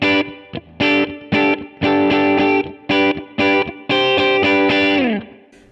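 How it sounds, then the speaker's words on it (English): PRS S2 Standard 22 electric guitar with Seymour Duncan 59 pickups, both pickups on, plays short chords and notes in a clear, slightly driven tone, separated by brief gaps, ending on a longer ringing chord that fades out. "that's kind of that Gibson-y, both pickup sound on."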